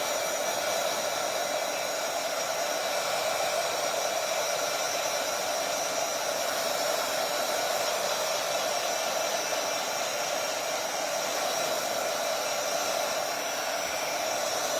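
A hair dryer blows steadily and loudly on artwork to dry it so it won't stick to the table, a constant close whoosh running unbroken throughout with no voices.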